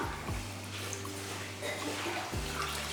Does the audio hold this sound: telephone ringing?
no